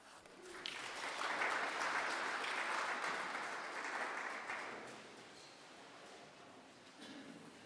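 An audience at a petroleum policy consultation meeting in Nkurenkuru applauds the Honorable Governor, the clapping swelling for a few seconds and then thinning out. The sound is quiet and distant throughout.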